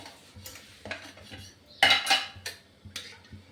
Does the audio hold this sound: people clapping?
no